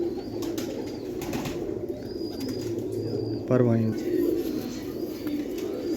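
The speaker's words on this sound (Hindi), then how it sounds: "ये शौक़ करें उस्ताद मियां अजीम नज़ीर साहब के ब्रीडर कबूतरों का" Breeder pigeons belonging to Ustad Mian Azeem Nazir coo close by in a loft, giving one prominent deep, throbbing coo among softer bird sounds, while someone talks over them.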